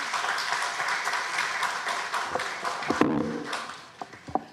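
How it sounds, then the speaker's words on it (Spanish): An audience at a justice-system forum in Peru's Congress applauds to welcome a speaker, with steady, full clapping that thins into a few scattered, sharper claps at the end. "Lo recibimos con fuertes aplausos."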